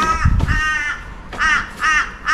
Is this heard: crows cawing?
yes